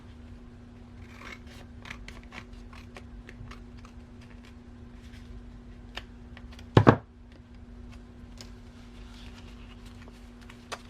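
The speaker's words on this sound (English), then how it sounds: "we can trim up this side just a little bit" Scissors trimming paper for a country-style junk journal, a quiet crisp run of small snips and paper rustles with one louder cut near the middle, with no talking.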